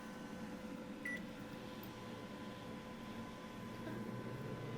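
Large microwave oven running on a Milwaukee MX Fuel power supply, a quiet steady electrical hum with a brief beep near the start.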